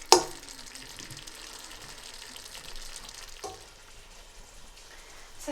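Aloo gobhi, a Punjabi potato and cauliflower masala, sizzling softly in oil in a pan, a steady close hiss with a brief clatter at the start and another shift partway through, no talk.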